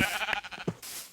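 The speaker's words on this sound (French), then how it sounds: "J'ai 2 moutons blancs, mec." Sheep bleating in the video game Minecraft, a few short wavering bleats close up, fairly quiet, with no talk over them.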